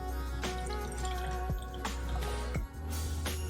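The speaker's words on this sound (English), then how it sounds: "I'm going to fill up my jam jar up to 1/4 worth of my jam jar, okay? With water" Water is poured into a jam jar during a classroom science demonstration, giving a soft, close trickle with a few distinct drips over a steady background hum.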